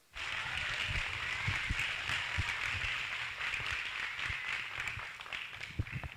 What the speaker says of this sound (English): give these exhibitors a nice round of applause